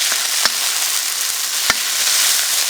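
Steady, close frying hiss as aged tomatoes cook down in a pan, with two sharp scrape or clack accents from a utensil against the pan and no voices.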